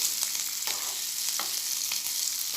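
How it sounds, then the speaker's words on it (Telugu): Continuous sizzling and crackling of curry leaves in a hot pan, with several light utensil taps and scrapes at irregular intervals, close by. "కరివేపాకు వేసుకొని ఇప్పుడు ఫ్రై చేసుకుంటున్నాము"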